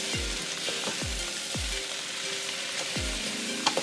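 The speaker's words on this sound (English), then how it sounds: "Now give that a good stir in." Chopped fresh capsicums, four large ones, sizzle quietly in a pan for sweet chilli sauce while a utensil stirs them, giving a few soft, evenly spaced low scrapes under a steady gentle frying hiss.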